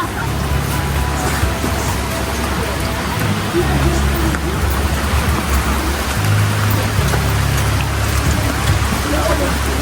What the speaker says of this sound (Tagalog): Sabi, lakas ang ulan.